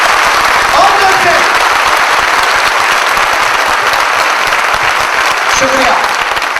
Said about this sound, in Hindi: अपनी खुद की हौसला अफजाई के लिए जोरदार तालियां